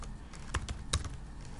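Fingers tap on a computer keyboard in a short, quiet burst of irregular key clicks, with two slightly louder strokes standing out against a faint background hum.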